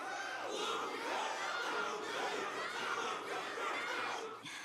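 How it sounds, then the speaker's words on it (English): A large crowd cheers and shouts at a martial arts tournament battle in the Honkai Star Rail video game, a steady, fairly loud roar of many voices with some laughter. "Can't you hear? Everyone's cheering for you, Luca."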